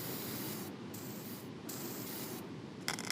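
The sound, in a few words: spraying brake cleaner on a car rear end gear set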